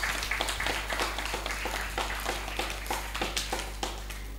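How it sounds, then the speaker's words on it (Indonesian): Applause for young children competing in a tahlil recitation contest at a youth festival final: scattered, moderately loud clapping from an audience, with distinct claps over a steady low hum. "Tepuk tangan lagi untuk adik-adik kita yang hebat."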